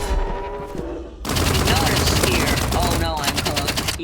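Rapid bursts of video game gunfire crackle almost continuously, loud and dense, with a brief quieter lull before an even heavier barrage of overlapping shots.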